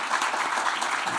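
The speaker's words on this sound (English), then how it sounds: "Let's have a round of applause for them." Conference audience applauding a patient panel, a steady dense wash of clapping throughout, fairly loud and close with no talk over it.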